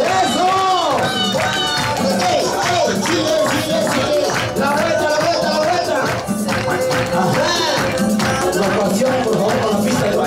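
Audience clapping along in steady rhythm at a gender reveal party, loud and continuous over music with shouting and lively chatter throughout.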